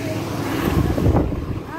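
Strong wind buffets the microphone outdoors in a steady, rumbling rush, with voices talking faintly underneath.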